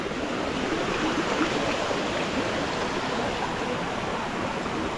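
A river near Tuay Falls rushes steadily, a continuous even wash of flowing water that stays at the same moderate level throughout, with no voices.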